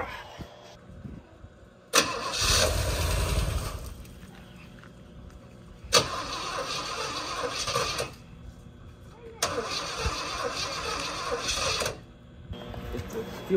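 A 1973 Chevrolet Nova four-door sedan, parked for 32 years, cranks with gas poured in the carburetor. Three loud bursts of starter grinding come with pauses between them, and the engine does not catch.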